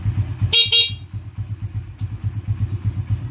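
Two short, bright toots from a motorcycle horn sound close by over the low, pulsing putter of an idling engine.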